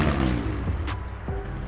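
A Honda Civic with a B18C engine roars by close, its engine note swelling broadly and then fading as it passes, with a brief rise in pitch near the end.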